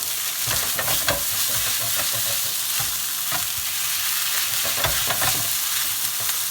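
Chili, garlic and kidney beans fry in a hot pan with a steady sizzle, broken by scraping stirs at an irregular rhythm, heard up close with no talking.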